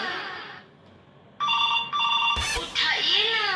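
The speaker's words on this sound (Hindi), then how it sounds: "अब ये फोन किसका आ रहा है?" A telephone rings in repeated trilling bursts, loud and close, with a voice speaking briefly between and over the rings.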